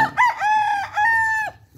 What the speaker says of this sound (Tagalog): Ito mga manok namin mga idol